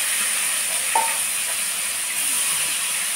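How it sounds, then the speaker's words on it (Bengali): Foli fish sizzles in hot oil in a home kitchen, a steady bright hiss with a faint clink of a utensil partway through. "প্রথমে ফলি মাছটা ভেজে নাও"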